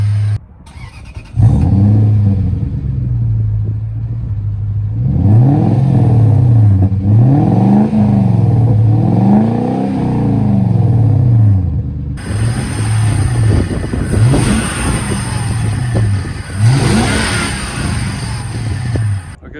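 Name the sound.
car engine revving with stock air filter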